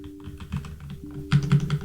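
Typing on a computer keyboard while coding in Vim, with a quick series of soft, close key clicks that turn into a denser, louder burst of keystrokes toward the end over a faint steady hum.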